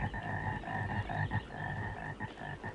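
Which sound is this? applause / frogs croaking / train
frogs croaking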